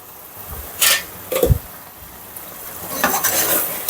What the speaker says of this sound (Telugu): దీన్ని ఆయిల్లో బాగా ఫ్రై చేసేసుకుందాము